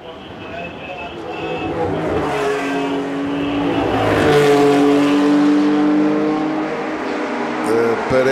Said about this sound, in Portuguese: a luta pela segunda posição entre o Escort Rui Costa e o Porsche laranja do João Macedo Silva